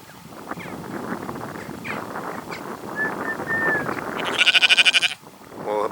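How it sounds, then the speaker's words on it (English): Sheep bleat beside a rural Scottish road, several calls scattered through the clip over steady outdoor background, ending with a loud pulsing bleat close by. "sharing the road with the sheep. And we saw a lot of sheep."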